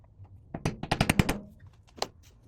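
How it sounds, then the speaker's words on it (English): A corner chisel squares the corners of a routed door jamb during millwork door-frame installation, giving a quick run of about eight sharp, loud mallet-driven impacts followed by one more strike after a pause, with no talking. "For that, I'm just gonna use a corner chisel."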